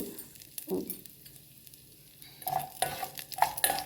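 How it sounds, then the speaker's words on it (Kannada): Mustard seeds, urad dal and curry leaves fry in a spoonful of coconut oil for a tempering. A quiet sizzle sits under spoon stirring and scraping, and small pops and clinks grow busier in the second half. "ಒಂದು ಸ್ಪೂನ್ ಕೊಬ್ಬರಿ ಎಣ್ಣೆ ಹಾಕ್ಕೊಂಡು ಸಾಸಿವೆ ಹಾಕ್ಕೊಂಡಿದ್ದೀನಿ ಉದ್ದಿನಬೇಳೆ ಕರಿಬೇವು ಉದ್ದಿನಬೇಳೆ ಕೆಂಪಾಗೋ ತನಕ ಹುರ್ಕೊಂಡಿದ್ದೀನಿ"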